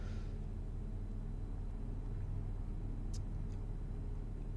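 A truck engine in Euro Truck Simulator 2, here a Flixbus coach driving through Italy, hums in a steady low drone throughout, with a couple of faint brief high clicks and no voices.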